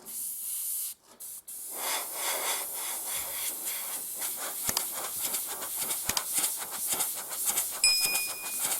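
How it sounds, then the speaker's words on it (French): An airbrush sprays acrylic paint onto the roof of an O-scale Lenz covered wagon model, held about 2 cm from the surface. It gives a close, steady hiss broken by repeated short bursts, with no voices. "Je vais refaire une peinture semi-complète en donnant des coups d'aérographe perpendiculairement au bord de la toiture."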